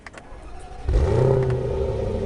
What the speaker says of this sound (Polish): więc odpalamy tą 5-litrówkę